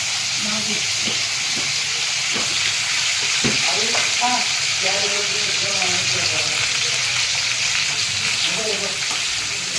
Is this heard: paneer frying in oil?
yes